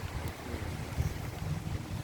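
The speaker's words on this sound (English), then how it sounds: "It's windy." Steady wind buffets the microphone outdoors with a continuous low rumble and gusty swells throughout.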